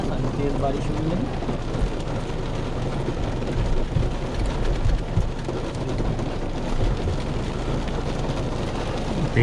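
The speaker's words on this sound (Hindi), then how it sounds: "देख रहे हो क्या बेहतरीन वाली बारिश हो रही है।" Heavy rain pours steadily during an off-road drive in an Isuzu MU-X 4x4 SUV running in two-wheel drive, a dense continuous hiss with low rumble from the vehicle underneath.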